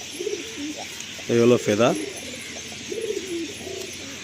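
A restless loft pigeon coos while held in hand, a couple of close throaty coos in the middle with someone talking quietly around them.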